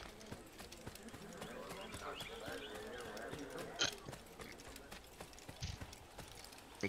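Horse hooves clip-clop steadily in an Assassin's Creed game scene, a moderately close rhythmic trotting under continuous game ambience, with someone talking over it.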